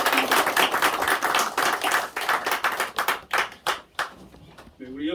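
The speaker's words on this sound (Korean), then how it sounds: "영광의 박수를 올려드리겠습니다." A church congregation at a Sunday morning worship service claps together, steady loud handclaps that grow sparser and trail off near the end, with a voice entering at the close.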